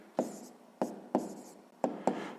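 A pen on paper writes down a math answer, producing five sharp taps or strokes at uneven intervals, quiet and close with no talk.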